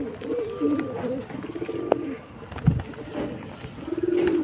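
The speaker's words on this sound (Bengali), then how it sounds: "ওই দেখতে পাচ্ছ ওই পায়রাগুলো বিটিং করছে" Pigeons coo in low, rolling bursts close by in a loft, with a sharp clap or flutter in the middle and a rising coo toward the end, over faint background noise.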